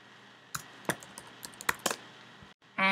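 Typing on a computer keyboard in a quiet room: a handful of separate, sharp key clicks spaced irregularly, then a brief silence and a final burst of quick taps.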